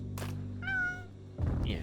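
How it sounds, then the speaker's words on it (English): A Bengal cat gives a single loud, drawn-out meow, clear and close, followed by a brief thump. "that was a big meow. He's a Bengal."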